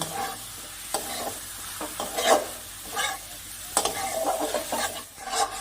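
Morola fish and potatoes being stir-fried with spices in a pan, a steady sizzle broken by repeated scraping strokes of a spatula, close and fairly loud, with no voices.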